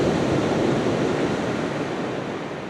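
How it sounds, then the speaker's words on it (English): Surf breaks steadily on a Guernsey beach as a loud, continuous, broadband roar of waves that carries through the whole stretch, with no voices over it. "beautiful bit of surf behind"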